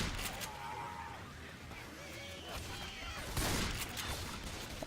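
Gunfire from the video game Left 4 Dead 2 in a co-op match, a steady dense fusillade of game weapons under a continuous mix of in-game noise, with a louder burst near the end.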